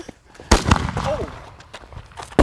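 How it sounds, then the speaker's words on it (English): A firework goes off outdoors on a street at night, a sharp loud burst followed by crackling bangs and whistling fizz, with another sharp pop at the end while people shout and react nearby. "A firework went off."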